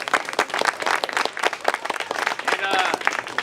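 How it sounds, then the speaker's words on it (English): A small group claps irregularly to welcome new members, with uneven hand claps close by mixed with voices talking over the applause. "Give another round of applause."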